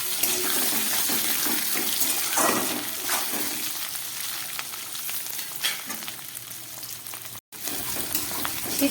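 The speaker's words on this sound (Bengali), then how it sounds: "সিদ্ধ করা আলুগুলোকে খুব ভালো করে ভেজে নিলাম" Boiled potato pieces fry in hot oil with bay leaves, a steady close sizzle running throughout with scattered pops and stirring clatter, a brief gap near the end.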